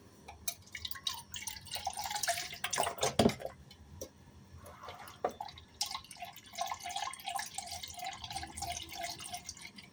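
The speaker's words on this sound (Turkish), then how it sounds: "Ağacın içine su dökelim de temizleyelim." Water poured into a hollow in a tree to rinse it clean, dripping and splashing unevenly over about ten seconds, with a brief louder gush partway through, faint and close.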